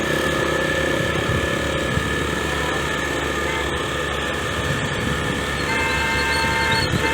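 Busy car and motorbike traffic on Marine Drive by the Ganges in Patna, with a constant engine rumble, idling vehicles and repeated horn toots cutting through.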